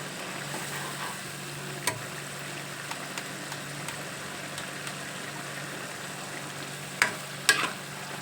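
A ridge gourd curry simmers and sizzles in a pan as its water cooks off, a soft continuous crackling hiss punctuated by a few sharp pops and utensil clicks, quiet and close.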